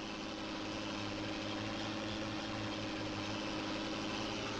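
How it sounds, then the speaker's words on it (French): A tractor engine idles in the Farming Simulator 19 video game, giving a steady, continuous low rumble that holds at an even level throughout with no voices. "On va aller chercher cette machine, le tracteur là."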